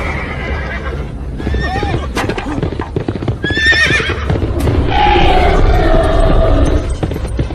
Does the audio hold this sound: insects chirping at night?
no